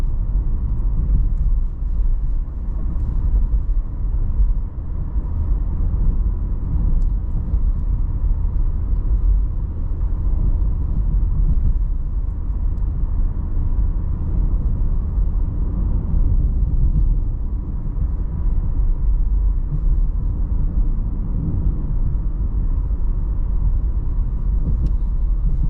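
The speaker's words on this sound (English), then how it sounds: "Now, this is more of a rough road, so we'll kind of feel out the suspension here and see how it rides." A 2026 VW Jetta Sport rolls over a rough road, heard from inside the cabin as a steady, loud low rumble of tyres and road noise that continues without a break for the whole stretch, with no talking.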